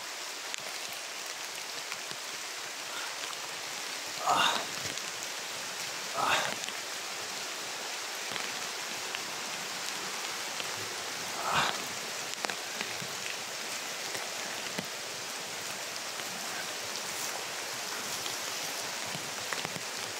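Steady rain pours down continuously, a dense hiss of drops with a few louder splats and knocks standing out now and then.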